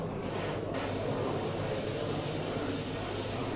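Close, steady hiss of spray paint coating a model, an unbroken airy spray with two brief pauses near the start.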